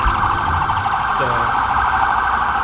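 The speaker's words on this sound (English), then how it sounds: "ambulance coming and going" A wailing ambulance siren sounds loudly and steadily outdoors at a candlelight vigil for Palestine, with a faint low rumble beneath and no voices.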